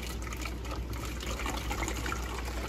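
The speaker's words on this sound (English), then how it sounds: "So I then very simply pour" Warm water pours into a bottle while a phytoplankton starter culture is being prepared, a steady close gushing and gurgling fill that runs continuously without pause.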